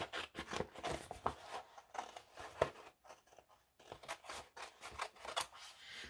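Scissors cutting through a paper planner page, a quick series of close, crisp snips and crunches with short pauses between, fairly quiet and without speech.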